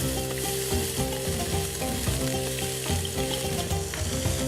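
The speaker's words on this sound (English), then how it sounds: "I'm just going to put a little bit of oil in the bottom, and this is just so that we can braise our onions" Chopped onions frying in a little oil in a pan, with a dense, steady sizzle running throughout alongside some stirring and clatter, close and fairly loud, with no talking.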